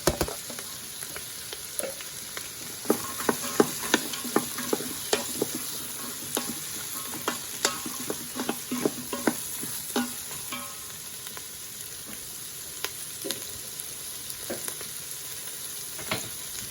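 Carrots frying in a pan with other vegetables, a soft steady sizzle broken by scraping and clacking as a utensil stirs them, close and fairly quiet, no voices.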